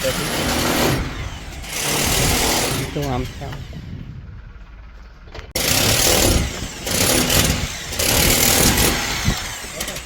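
A machine runs at a masons' construction site, a loud buzzing motor whine that drops away for about a second midway before resuming steadily, with someone talking over it throughout.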